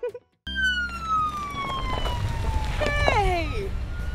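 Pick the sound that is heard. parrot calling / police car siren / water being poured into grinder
police car siren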